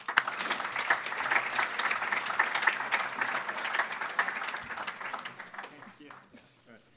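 An audience applauds to welcome Dr. Matt Manweller, dense sustained clapping from a room full of people that holds steady for several seconds and then tapers off.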